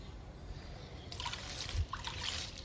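Plant tonic liquid is sprinkled over bushy indoor plants, producing faint, soft bursts of spattering droplets on leaves in two or three short splashes against a quiet room.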